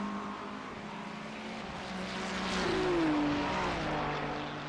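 A Ferrari race car engine in a racing simulator, a steady droning note that swells louder mid-way as the throttle goes down, then eases slightly.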